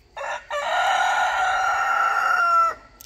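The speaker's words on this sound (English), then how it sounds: "It's only two roosters out here." Roosters crow in a chicken coop, a German breed among them, giving one long, loud, close crow after a brief opening call, with no other sound around it.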